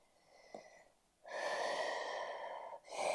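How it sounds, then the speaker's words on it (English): Slow, audible breaths during a yoga flow: a faint short inhale, then a long, steady, close-up exhale through the mouth, followed by another breath starting, with no talk. "Little sways from side to side, breathing in, breathing out"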